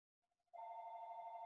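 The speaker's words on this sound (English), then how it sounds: "Oh, I didn't silence the phone." A phone rings during a quiet yoga session: a few short soft tones, then a loud continuous ringing tone, alone with no talking.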